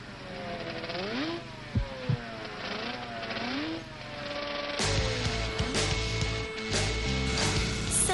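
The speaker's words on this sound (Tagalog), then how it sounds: "Sa bilis ng harurot ni Mel sa kanyang motor" A motorcycle revs in rising and falling sweeps, then speeds off into a louder, sustained engine roar with sharp bursts, heard clearly without talk.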